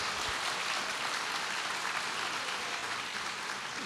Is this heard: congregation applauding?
yes